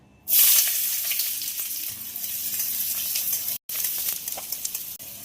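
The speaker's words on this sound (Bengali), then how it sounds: "এখানে কড়াই বসিয়েছি, তেলও দিয়ে দিয়েছি আর পেঁয়াজ কুচি দিয়ে দেবো" Chopped onions hit hot oil in a kadai with a sudden loud hiss that settles into a steady, close sizzle with a brief break near the end.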